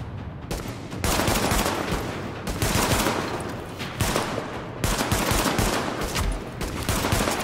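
Pistol gunfire in the shooter game Tom Clancy's The Division, sounding as loud, dense, continuous volleys of shots that carry on almost without a break for several seconds.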